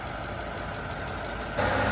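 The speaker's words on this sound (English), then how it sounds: "this car is idling like what it's supposed to be, 600." A steady, low car engine idle at about 600 rpm hums evenly throughout, getting a bit louder right at the end.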